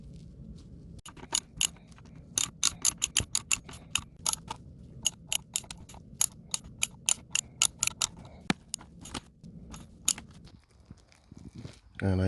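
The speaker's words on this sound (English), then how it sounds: "you're gonna need a T15 to remove all 3 screws from the ignition module" A T15 Torx driver turning the ignition module screws on a 2005 Chevy Malibu 2.2 Ecotec makes rapid, close, sharp ratcheting clicks in irregular bursts, with a voice talking underneath.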